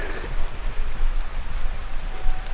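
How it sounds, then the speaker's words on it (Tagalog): Steady rain falling across an open farm plot with papaya plants, a dense, even hiss with a low rumble beneath, loud and constant and with no voices. "Yun nabasa na tayo ng ulan."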